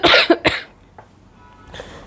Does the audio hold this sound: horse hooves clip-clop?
no